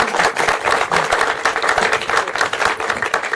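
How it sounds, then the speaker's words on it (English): An audience applauds panelists at a media talk event, a steady wash of many hands clapping close and loud for the whole stretch, with no voices over it. "let's give a round of applause for our panelists"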